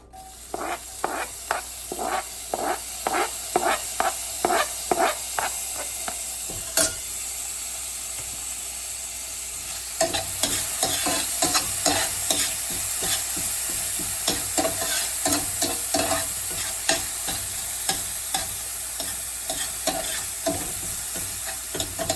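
Chopped garlic and peppers fry in a pan on reduced heat, a constant sizzle overlaid with a rapid rhythmic scraping of a spatula, steady and close throughout.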